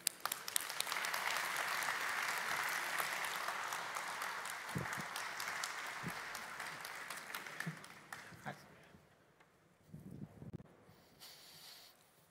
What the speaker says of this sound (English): a very big round of applause for Mihir Ayubi.